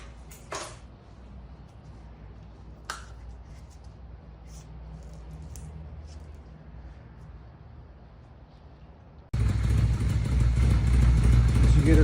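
A 2000 Honda Shadow 600 VLX motorcycle engine is cranked during a radiator coolant flush, with faint clatter and a low idle rumble before the engine catches and runs loudly and steadily near the end.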